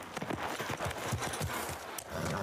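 A horse in The Last of Us Part 2, its hooves clip-clopping in a quick, uneven run of close, firm beats, heard alone without talk.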